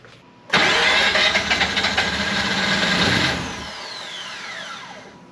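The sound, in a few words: Mazda RX8 engine starting up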